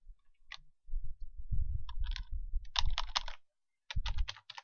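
Keys tapped on a computer keyboard in quick bursts of clicks, with short pauses between flurries, close and fairly crisp, with no voices.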